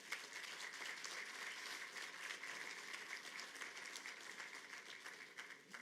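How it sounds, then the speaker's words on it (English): Outdoor crowd at a hospital groundbreaking in Fond du Lac claps steadily, even, distant-sounding applause lasting several seconds, fairly faint. "A little round of applause for all of these great people."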